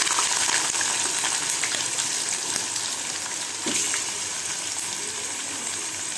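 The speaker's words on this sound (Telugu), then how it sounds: "ఆయిల్ హీట్ ఎక్కిన తర్వాత ఈ చికెన్ అనేది దీంట్లో వేయాలి." Chicken pieces fry in hot oil with a steady, dense sizzle and crackle at close range, holding even throughout with a few soft pops and stirs. No one speaks.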